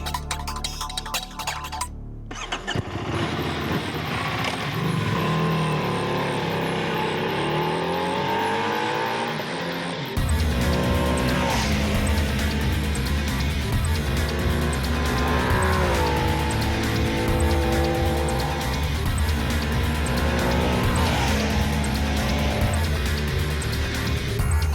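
An EBR 1190SX motorcycle on a road ride, its engine revving up loudly after a brief start, then running steady and strong with rising and falling pitch as it accelerates through gears.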